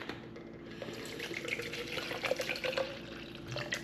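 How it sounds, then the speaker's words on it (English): Water pours steadily from a tap into a plastic shaker bottle, a continuous close splashing and trickling flow with no talking. "put a little bit of water in the shaker."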